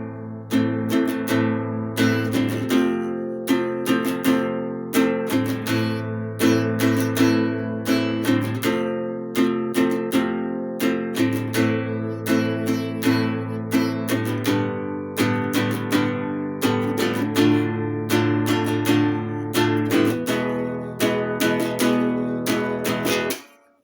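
Acoustic guitar slowly strumming a song's chord progression, a steady even rhythm of clear strums and ringing chords running throughout before stopping abruptly at the end.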